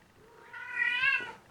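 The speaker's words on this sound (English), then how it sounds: "And I've got a pussycat meowing." A single drawn-out cat meow, rising and then falling in pitch, fairly close and clear against a quiet background.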